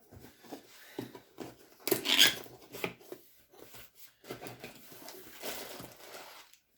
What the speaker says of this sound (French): Si, je vais le déballer quand même.